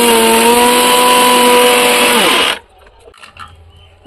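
A mixer grinder grinding whole spices, a loud high-pitched motor whine that runs steadily for about two and a half seconds, then winds down and stops, leaving quiet rattles.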